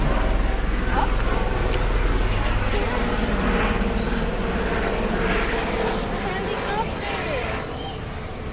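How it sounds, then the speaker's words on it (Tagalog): Helicopter passing overhead outdoors, a loud, steady rotor and engine roar that fills the whole clip and slowly fades, with children's voices and shouts over it. "Helicopter!"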